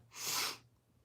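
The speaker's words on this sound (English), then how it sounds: "sneeze." One sharp human sneeze, close and fairly loud, bursting briefly and then fading into quiet room tone.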